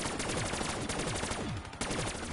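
Rapid video game gunfire rattles in dense, continuous bursts of sharp shots, loud and close throughout, with no talking.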